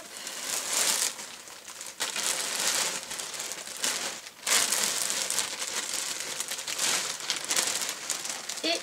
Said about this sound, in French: Donc eh bien on va le déballer.